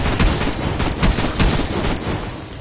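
Rapid bursts of gunfire in Call of Duty Cold War Zombies Outbreak mode, heavy shotgun-like blasts repeating in quick succession, loud and close with no talking over them.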